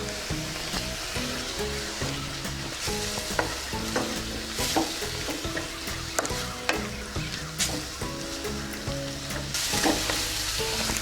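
Onions frying in a pan with ginger garlic paste, stirred continuously for a cauliflower gravy; a steady close sizzle fills the clip with repeated scraping stir strokes throughout, and no voices.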